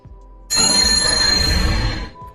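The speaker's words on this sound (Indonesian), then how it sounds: "Ia pun dikejutkan dengan suara lonceng yang entah siapa pelakunya." A sudden bright ringing bell tone starts after a moment of quiet, sustains steadily for over a second with shimmering overtones, then cuts off.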